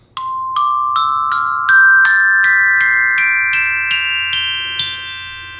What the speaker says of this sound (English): This is the Soprano Glockenspiel, and it's the highest member of the family in the register.